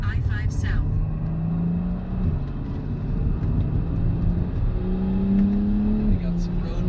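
A BMW car with performance modifications accelerates while merging onto the I-5 South highway, its engine note rising steadily and loud over constant road and wind noise, heard from inside the cabin.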